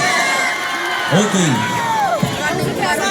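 A crowd cheers and whoops in a lively burst, with loud shouts and rising voices overlapping close by. Distinct clapping is hard to pick out.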